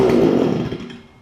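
Small two-stroke engine of a Stihl FS45 weedeater with a replaced carburetor that still bogs down, running with a buzzy drone close by that winds down and fades over about a second.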